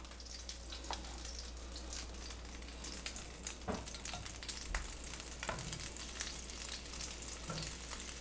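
Meatballs sizzle and crackle steadily in hot oil in a pan, a dense, even frying hiss that runs close and continuous with no talking, for a Calabrese baked pasta dish.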